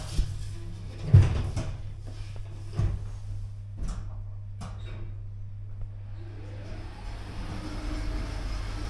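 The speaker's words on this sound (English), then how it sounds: "Doors closing." Sliding doors of a Stannah passenger lift in a Sainsbury's store in Thetford close with a few soft clunks and thuds over a steady low motor hum, followed by a rising mechanical whir as the lift starts to move.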